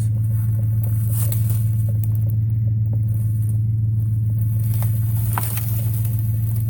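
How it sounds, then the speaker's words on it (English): Pickup truck in four-wheel-drive low dragging an old tree into the woods, a steady loud low engine drone with scattered crackles and scrapes throughout. "He's going to pull it with the truck here."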